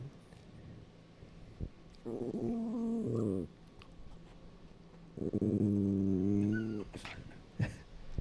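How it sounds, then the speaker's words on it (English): Two dogs growl in a small playful scuffle, two sustained rumbling growls a few seconds apart with brief yips and clicks between, fairly quiet and close. "I guess we got a little puppy fight."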